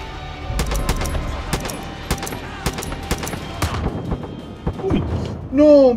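Gunshots in the video game Far Cry 5: a run of sharp, loud, irregularly spaced shots, some in quick pairs. The shots thin out toward the end, where a voice briefly speaks.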